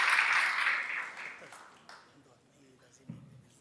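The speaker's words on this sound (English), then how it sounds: "Let's give her a big round of applause" Audience applause at a scholarship graduation ceremony for an Indonesia scholarship cohort, loud and dense at the start then fading away over a few seconds, with a few scattered claps and faint room noise at the end.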